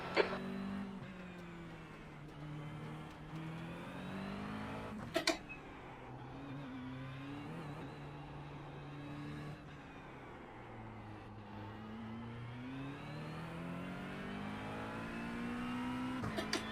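Race car engines in iRacing sim racing, IMSA series at Miami: a continuous, faint engine drone rising and falling with revs and shifts, with a couple of brief sharp clicks, with no talk.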